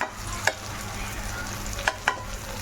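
Onion, tomato and masala sauté in a pan with a steady soft sizzle, broken by three quick scraping stirs of a spoon close up.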